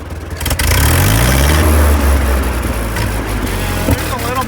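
A Ford 2N tractor engine runs steadily with a deep, loud, close rumble that holds for several seconds before easing slightly, and a voice speaks briefly over it.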